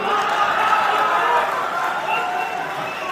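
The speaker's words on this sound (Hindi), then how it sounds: "मैंने ताली अगली बात पे बजानी थी, एडवांस में बजा दी" Audience at an Urdu mushaira in Mysore claps in a dense, steady wash of applause that stays loud throughout and fades slightly toward the end.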